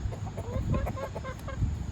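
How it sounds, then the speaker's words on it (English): Backyard chickens cluck and murmur in a steady, close run of soft calls, with one hen noted as grubby from dust bathing and the flock given watermelon. "Just being chickens."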